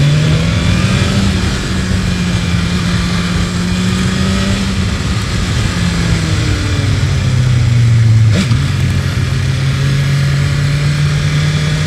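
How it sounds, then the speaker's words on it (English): A BMW S1000RR motorcycle in second gear pulls out of a corner on a low-speed gymkhana course, engine droning loudly and rising steadily in pitch, with a brief sharp shift near the end before it carries on pulling, no talk. "I'm gonna leave it in second, see how it pulls out of the corner."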